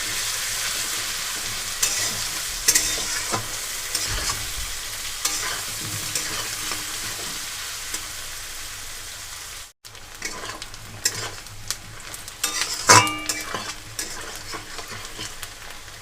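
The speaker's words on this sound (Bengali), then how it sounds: "আলুর সাথে পেঁয়াজটাকেও এখানে ভেজে একদম হালকা নরম করে নেব এখানে" Sliced onion and potato fry in a pan, giving a soft, continuous sizzle broken by occasional scraping strokes of a spatula stirring the pieces, with no talking.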